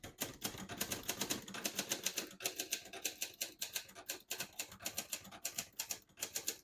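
A 1962 Hermes Media 3 manual portable typewriter clacks in quick, uneven bursts of keystrokes, close and fairly quiet, with brief pauses between runs and no voices.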